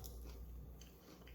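A tortilla chip loaded with homemade canned salsa is bitten and chewed up close, giving soft, wet crunching and mashing for about a second and a half at low volume.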